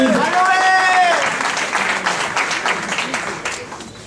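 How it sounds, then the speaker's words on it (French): An audience at the Miss Saint Denis 2014 pageant applauds a contestant with a few seconds of steady clapping, opening with a brief tonal sound and fading slightly toward the end. "Candidat numéro 6, sous vos applaudissements"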